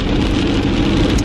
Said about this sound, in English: It's like raining real hard right now.